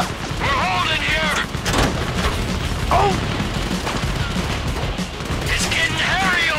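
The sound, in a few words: gunfire during a bank heist in the video game GTA V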